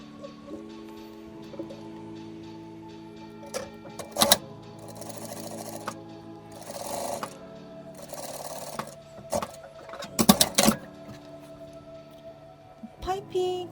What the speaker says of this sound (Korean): 고정 박음질 먼저 해줍니다.